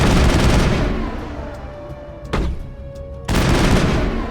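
Heavy gunfire roars through a shootout inside Chora's Den in Mass Effect, a dense loud barrage that eases into a quieter stretch before two sharp renewed blasts of shooting.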